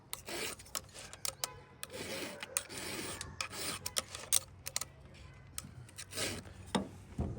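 A file rasps across the rakers of a chainsaw chain in repeated short strokes, each scrape a brief bright burst with small gaps between, close and alone.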